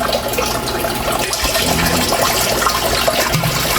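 Activated aqua maintenance solution poured into a catfish-rearing drum, a steady close splashing gush of liquid into water lasting a few seconds without speech.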